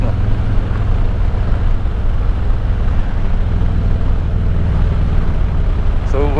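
A vehicle engine runs continuously with a steady, low, rumbling drone that stays even in loudness throughout, close to the microphone, with a little wind noise.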